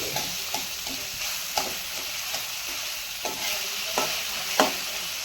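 Broccoli, mushroom and paneer fry in a pan with a steady close sizzle, broken by a series of irregular spatula scrapes and taps against the pan, with no voices.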